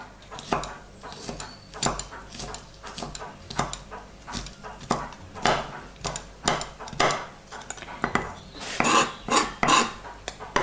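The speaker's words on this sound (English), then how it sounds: "I've peeled a clove here and I'm just cutting it up very fine with my knife." A knife chops a peeled garlic clove very fine on a board, giving steady, close, rapid taps and scrapes with short clattering bursts and no talk.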